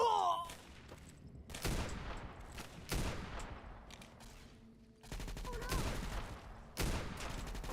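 Video game gunfire rings out in several loud bursts of rapid shots, separated by short pauses, with a brief voice-like sound near the start.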